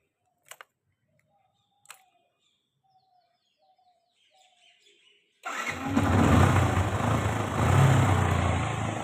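After a few faint clicks and near silence, a Yamaha FZS motorcycle with its choke pulled fires up and settles into a loud, steady, rumbling idle close by.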